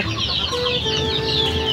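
Dense chorus of high chicks' peeping and chirping in a brooder on a backyard chicken farm, steady and close, with clucking fowl sounds underneath.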